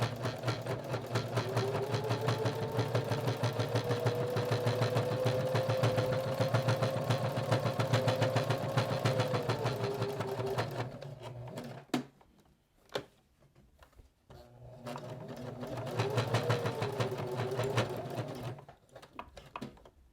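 A sewing machine stitches through several layers of fabric plus batting on a nail file holder, a rapid mechanical whirring that runs steadily, stops, gives a few short bursts, then resumes.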